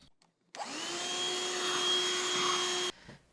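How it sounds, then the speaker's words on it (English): Power drill boring a hole through an aluminum pedalboard, a steady high whine that starts abruptly, holds for about two seconds and cuts off sharply, close and loud with no talking. "put the drill against the metal and squeeze the trigger"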